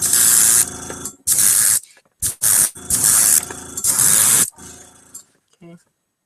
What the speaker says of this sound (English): quick thin coat of white primer. Let's do another one. And I'm only using like a couple of drops of this stuff when I spray.